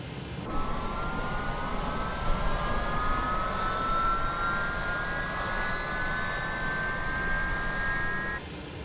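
A McDonnell Douglas MD-11 jet engine spins up in a flight simulator, a steady broadband roar with rising whining tones that climb gradually over several seconds, continuous and fairly loud, with no talking.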